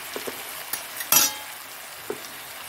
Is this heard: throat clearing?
no